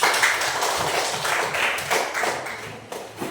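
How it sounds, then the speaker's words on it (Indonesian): A short burst of clapping from a group, dense and steady for a few seconds, fairly close and without talk. "tepuk tangan untuk kelompok Agatha."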